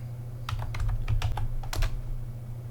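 Fast bursts of typing on a computer keyboard while entering a Samba install command in an Ubuntu terminal, clicking keystrokes in quick clusters over a steady low hum, no talking.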